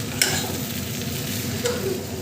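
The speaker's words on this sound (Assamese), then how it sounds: "কিছু সময় মই এনেকৈ লাৰি থাকিম ভাজিম" Potato pieces stirred and fried in a cooking pan give a steady close sizzle, with a couple of brief scraping strokes from the stirring utensil.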